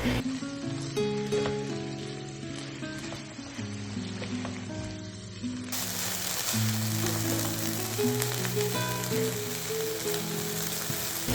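Small boneless chicken pieces for crispy chicken tacos searing in a hot pan while being stirred, a steady close crackling sizzle with faint music underneath.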